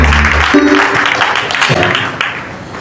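An audience claps to welcome a minister at a gathering of Pentecostal church leaders, a dense burst of clapping that fades slightly over a few seconds, with voices mixed in.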